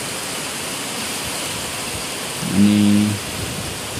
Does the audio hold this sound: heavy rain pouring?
yes